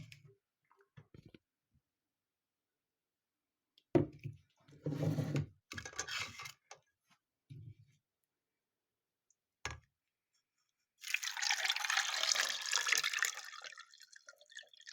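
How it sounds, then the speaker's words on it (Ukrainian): Short clinks and handling sounds, then a few seconds of steady rushing water pouring into a pot of salted eggs, close and fairly quiet. "і заливаю водою."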